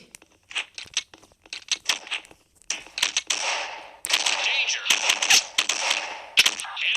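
Rapid gunfire from the online shooter game SF, with sharp single shots giving way to dense, sustained bursts of automatic fire, loud and close, with faint talk mixed in.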